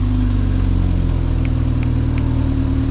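A 2023 BMW 330i M Sport, remote started, idles steadily and loudly with a constant low rumble, no voices, running on its own after starting.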